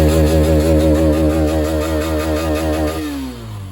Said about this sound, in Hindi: सुनाते हैं आपको बाइक का एग्जॉस्ट नोट कैसा आता है।